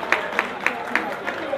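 A football crowd claps in a steady rhythm at a match between Cosmopolitan Football Club and VAC, the beats evenly spaced and moderately distant, with a commentator talking over them.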